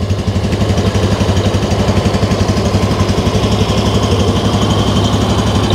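A 2023 Yamaha EZ115 scooter idles steadily at close range, its low exhaust putter pulsing in an even, continuous rhythm with no voices.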